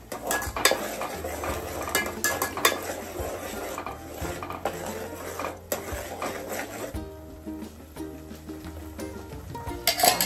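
A spoon clanks and scrapes against a metal pot while food is stirred, sounding close and continuous with repeated sharp knocks and a light sizzle underneath, and no voices.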